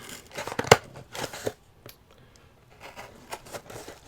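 A TRM Atom pocket knife slices through packing tape on a box, giving sharp, close snips and tearing scrapes in uneven bursts, with one loud crack early and quieter scratchy cuts afterward.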